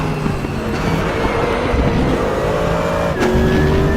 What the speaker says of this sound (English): this gives you a good excuse to enjoy the engine sounds